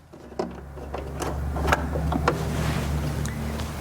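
A Janome HD5000 sewing machine runs a decorative stitch, a close, steady mechanical whir with a light rhythmic ticking and a few sharper clicks as it starts.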